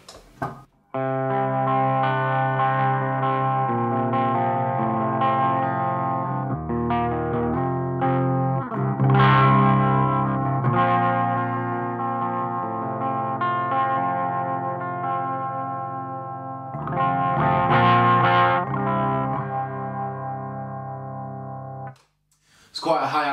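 Heavily distorted electric guitar through a Victory Rob Chapman Silverback amplifier plays sustained chords and riffs for about twenty seconds, loud and saturated with some echo, cutting out briefly near the end.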